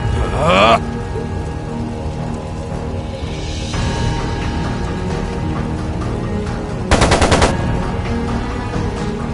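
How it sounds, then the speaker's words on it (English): Machine gun fire in a PS5 video game: short bursts of rapid gunfire over a constant dense background of game noise and rumble, with a loud burst near the start and another near the end. "It sounded like a machine gun."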